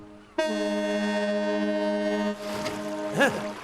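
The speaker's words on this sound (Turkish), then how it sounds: "Sis düdüğümü." A cartoon Viking ship's foghorn sounds one long, loud, rich droning blast that starts abruptly and holds for about two seconds before cutting off, followed by softer sea and wind noise.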